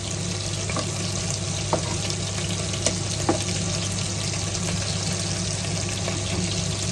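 Steady sizzling hiss of food frying in a pan with a low constant hum underneath and a few faint clinks, no voices.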